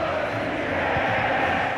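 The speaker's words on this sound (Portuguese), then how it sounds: "E a torcida canta, a torcida tá empolgada." Stadium crowd in the EA FC 24 football video game, a steady broad roar of many voices with faint sustained chant tones underneath, continuous throughout.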